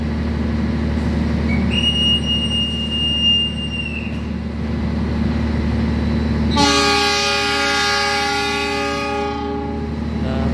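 The Argo Bromo Anggrek train departs Solo Balapan station with a steady, loud rumble of rolling rail cars. One horn blast sounds, then a second, stronger multi-tone horn blast lasts about three seconds.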